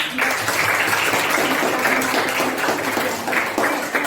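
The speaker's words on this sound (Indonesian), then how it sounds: "kita tepuk tangan dulu ya" A school classroom of students claps together at a teacher's prompt, a dense steady patter of hands filling the room at close range for several seconds.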